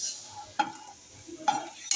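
Ingredients for a homemade protein powder being dry-roasted in a pan, stirred with a spatula: three short scraping strokes against the pan over near silence, with no talking.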